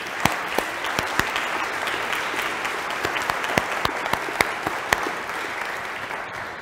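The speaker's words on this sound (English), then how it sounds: "Should we give them all a round of applause?" A church congregation at a Sunday Eucharist gives a round of applause for the helpers, many hands clapping in a steady, fairly close wash with a few louder individual claps popping out, no speech over it.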